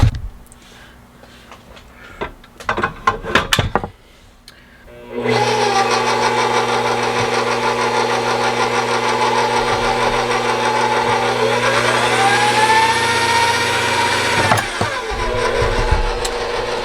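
An electric churn runs on raw milk to make butter. After a few seconds of light handling noises, its motor starts with a steady close hum and whine that holds for the rest of the clip.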